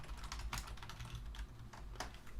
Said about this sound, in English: So you press the console key and type this in